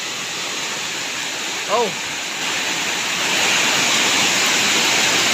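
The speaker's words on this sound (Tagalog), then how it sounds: "Lakas ng ulan." Heavy rain pouring down in a steady, dense wash that swells slightly louder toward the end, with a brief exclaiming voice early on.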